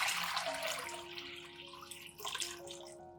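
Water pours steadily into a container to mix an orchid fertilizer solution, a continuous close splashing stream that fills and deepens in pitch over a few seconds, with no talking.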